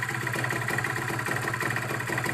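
A Kawasaki Ninja two-stroke motorcycle idles on a cold morning with its choke just switched off, giving a steady, close, buzzy engine drone with a slightly uneven beat and nothing else heard.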